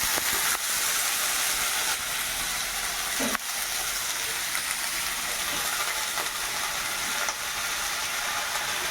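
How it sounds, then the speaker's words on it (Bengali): Potato pieces frying in smoking oil in a wok give a dense, steady hiss with faint clicks and a brief clatter partway through, loud and close with no talk. "আলুগুলো দিয়ে দিল কড়াইয়ের মধ্যে"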